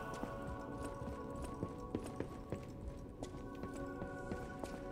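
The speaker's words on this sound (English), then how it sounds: "there's just a donkey running around" Donkey running around in the video game Lies of P, its hooves clip-clopping in a quick, uneven patter of sharp taps over a soft ambient background, moderately close and with no talk.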